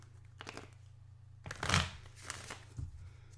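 A deck of playing cards is shuffled by hand in a quiet room over a low steady hum, with brief riffling bursts, the loudest one near the middle, each ending in a soft flutter.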